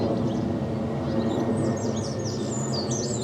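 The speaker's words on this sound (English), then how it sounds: "as you can hear, plenty of bird song to accompany me" Birds chirp and call in the high range throughout a countryside walk near Henley, several overlapping songs at moderate distance over a steady low outdoor rumble.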